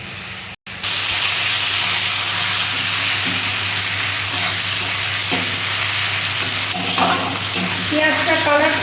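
Onion fries in hot oil in a pan, sizzling loudly and continuously after a brief start, with scraping stirs and spoon knocks cutting through the hiss.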